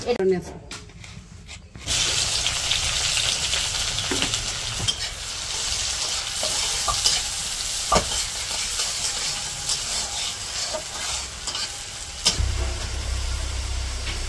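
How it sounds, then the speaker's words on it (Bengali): Spices, onion, green chili and ginger-garlic paste sautéing in a pan for a village-style chicken curry, a steady sizzle with stirring scrapes running throughout after a brief quieter start, with some background voices. "এদিকে মা তরকারি রান্না করার জন্য মশলা কষে নিতেছে"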